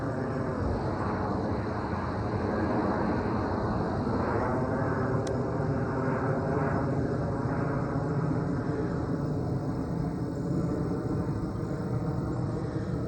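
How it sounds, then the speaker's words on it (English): A fixed-wing airplane passes overhead outdoors, a continuous broad roar that holds steady and loud for the whole stretch, with no voices. "I'll wait for the plane."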